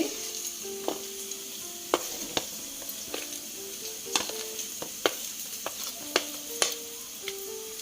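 Onions sizzle and crackle in hot oil in a pan with cumin seeds, a steady frying hiss broken by scattered sharp pops and spoon stirring, close and fairly quiet with no talking.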